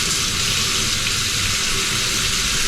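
Water runs from a sink tap into a water bottle in a steady, close, unbroken rush of even loudness, with no voices.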